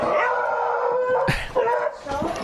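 Dogs barking, howling and yipping at close range, a sustained howl followed by a few sharp barks and whimpering yips, loud and prominent.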